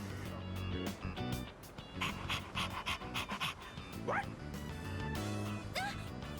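A dog in the video game Persona 3 Reload pants heavily and gives short barks and yips, with a few rising whimpers, close and fairly loud over game background music.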